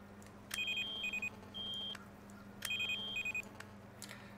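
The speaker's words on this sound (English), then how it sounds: "You'll also notice the buzzer's going off." In the Rust video game, an electronic buzzer sounds two short bursts of clipped high beeps separated by a steady tone, repeating after about two seconds; it is clear and alone.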